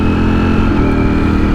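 A V4 motorcycle engine runs steadily and loudly nearby, holding a dense, even rumble at constant revs without a clear throttle blip for the full moment.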